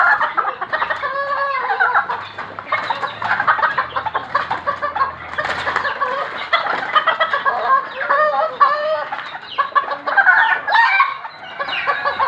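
Backyard flock of hens kept in a small home garden, clucking steadily with overlapping calls and a rooster crowing now and then, busy and close throughout.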